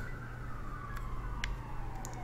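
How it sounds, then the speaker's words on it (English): Emergency vehicle sirens wail outside, a distant, slowly falling tone heard through the room with a few faint clicks over a low background hum, no voices. "sirens uh, going crazy out there. Don't know if you could hear that."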